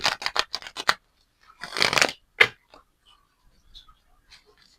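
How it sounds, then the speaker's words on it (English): Tarot cards being shuffled by hand, with a quick run of sharp riffling flicks followed by a longer riffle and a single snap, close and alone against silence. "Give me 4 shuffles, Spirit."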